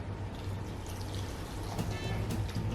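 Broth pours into a ramen bowl from Jinya, a Los Angeles ramen chain, giving a continuous soft liquid splashing and trickling close to the mic, with a faint steady background hum underneath.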